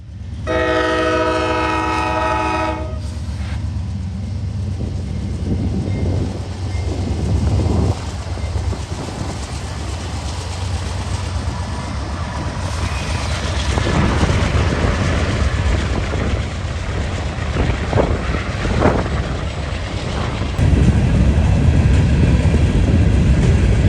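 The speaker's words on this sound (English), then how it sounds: "waiting for a Herzog train to cross over to get out of the way" A train horn blares briefly, then a long Herzog freight train in northern Ohio rumbles steadily past with loud rolling wheel noise and clatter.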